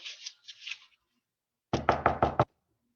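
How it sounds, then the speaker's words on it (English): Knocking on a door comes as a faint, muffled tapping pattern, followed by five loud, close, evenly spaced knocks. "Knock, knock, knock."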